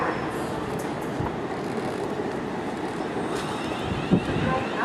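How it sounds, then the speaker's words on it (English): A train pulls into a platform at Clapham Junction station, a steady broad rumble of wheels and rail noise with station ambience and a brief knock near the end. "Train approaching platform 14 for 1323 Southern service to London Victoria."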